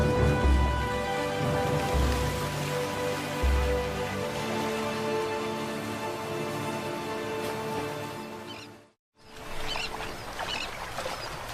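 Steady monsoon rain pours down in Sri Lanka, a dense continuous wash of patter with a brief dropout near the end before resuming.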